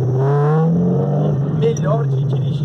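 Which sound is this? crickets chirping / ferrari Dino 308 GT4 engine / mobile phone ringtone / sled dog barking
ferrari Dino 308 GT4 engine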